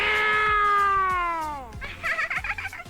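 A voice imitates an old cat with one long, drawn-out meow that slides downward and fades, followed by softer rustling sounds.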